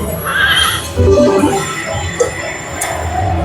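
A horse neighs from a Lightning Link slot machine game: one clear electronic whinny, followed by a second shorter whinny, set against steady casino-style machine sounds with no talking.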